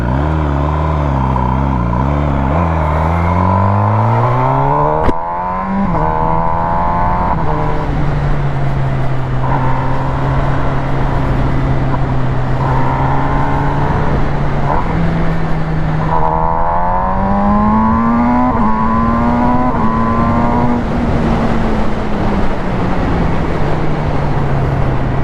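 A 2022 MV Agusta Brutale 1000 RS motorcycle accelerates hard through the gears, its engine note climbing steeply, dropping at each shift and rising again, loud and close, with no talking.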